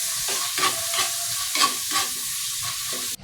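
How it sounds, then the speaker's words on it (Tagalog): Garlic sautés in a pan for a bean sprout and shrimp dish, giving a close sizzle with rhythmic stirring scrapes before cutting off abruptly. "Unahin na natin ilagay itong bawang, gisa lang natin to hanggang sa lumabas yung aroma."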